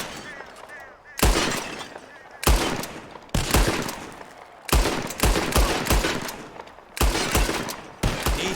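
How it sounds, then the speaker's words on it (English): Repeated gunshots ring out in Red Dead Redemption 2 as a revolver is fired at bottles in a shooting contest: about eight sharp, loud reports at irregular intervals, each with a short echoing tail, with no talk between them. "Whoever shoots more of these bottles wins."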